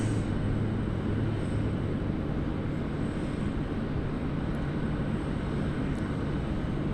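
A steady, loud roar from a Japan Airlines airliner at Sydney Airport, a broad continuous engine rumble with a faint high whine over it, sustained with no talking.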